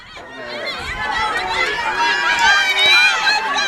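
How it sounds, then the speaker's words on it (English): Crowd noise at a high school softball game, Paola Panthers against Wellsville Eagles, swelling steadily louder as a mass of excited voices and shouts builds toward the next pitch. "And now the crowd's intensifying here"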